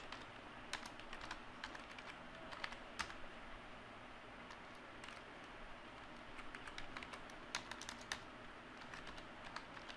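Steady typing on a computer keyboard while writing in Overleaf, a continuous patter of soft key clicks with occasional sharper taps, close and fairly quiet over a low background hum, no talking.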